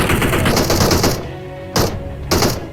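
Rapid bursts of video game gunfire, a sustained volley of sharp shots followed by two short clipped bursts separated by brief gaps, loud and close with no speech.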